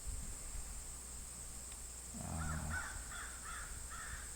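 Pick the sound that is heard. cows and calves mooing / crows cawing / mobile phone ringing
crows cawing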